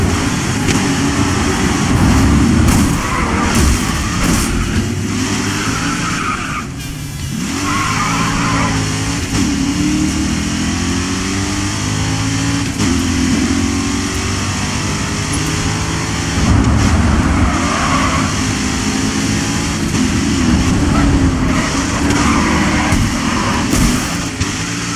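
Race cars roar and skid around a track in the racing video game GRID, with loud continuous engine drone, squealing tires and shifting revs throughout.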